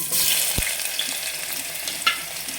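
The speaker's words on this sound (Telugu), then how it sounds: "కొంచెం ఆయిల్ ఎక్కువ వేయాలండి చూడండి నేను మూడు స్పూన్ వేసాను ఆనియన్ వేసుకోవాలండి ఉల్లిపాయలు" Onions frying in a generous amount of hot oil for mutton curry, a steady close sizzle with a few stirring knocks and scrapes of a spoon in the pan.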